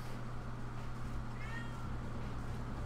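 Cat meowing in a Dino Crisis 2 speedrun, a brief faint rising meow in the middle over a steady low game hum and background noise.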